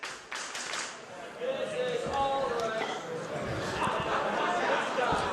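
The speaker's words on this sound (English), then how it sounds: "you hear the crowd letting them know what they think of the Olsen Twins exploding" A wrestling crowd at an Absolute Intense Wrestling match roars and jeers steadily throughout, a dense wash of shouting and scattered claps that swells after the first second and stays loud.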